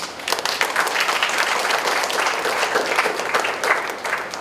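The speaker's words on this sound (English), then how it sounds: "With a round of applause" A chapel audience at a congregation's centenary ceremony breaks into applause, a dense, continuous wash of many hands clapping, fairly close and steady for several seconds.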